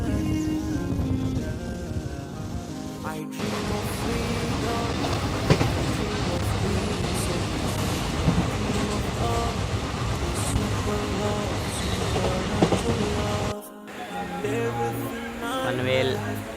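A passenger train running on the Konkan Railway, heard from onboard as a steady rumble with rhythmic clatter of the wheels. A brief quiet break comes near the end, followed by a voice.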